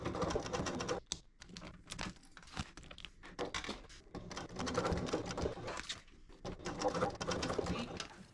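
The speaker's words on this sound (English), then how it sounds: "take our gusset pieces to the sewing machine, and we're going to stitch this together at a 3/8 seam allowance" A sewing machine stitches tote bag gusset pieces together at a 3/8 inch seam allowance, running in steady bursts with brief pauses, close and moderately loud.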